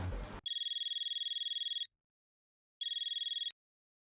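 A telephone rings in two loud bursts of rapid electronic trilling, the first about 1.5 seconds long and the second about 0.7 seconds, with silence between them and a brief noisy moment just before the first ring.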